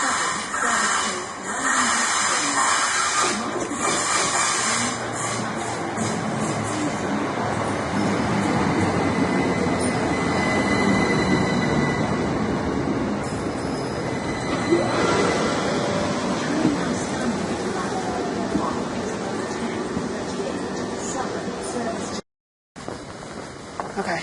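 A train rumbles and hisses at a platform at Clapham Junction station, a long steady mechanical drone with squeals and shifting noise, then a brief dropout near the end.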